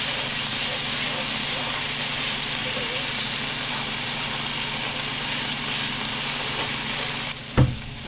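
Beef liver fries briefly in a pan, giving a steady, even sizzle and hiss that holds for several seconds, ending with a single sharp knock near the close.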